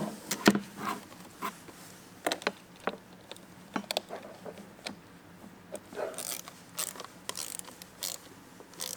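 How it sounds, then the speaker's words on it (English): Ratcheting wrench clicks in uneven bursts while tightening mud flap mount bolts for a Polaris RZR Pro R trailing arm, close and moderately loud with small metallic taps between. "So just get those fully tightened down."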